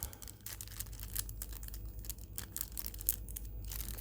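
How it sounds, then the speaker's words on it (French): Plastic wrap on promotional trading cards is torn and crinkled open, giving quiet, close, irregular rustling and tearing bursts with short pauses in between. "Alors on va essayer de les déballer si on y arrive."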